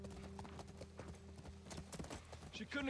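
Horse hooves clip-clop steadily as a rider travels in The Last of Us Part II, with a rhythmic trot over a continuous game soundscape and music, fairly close and clear.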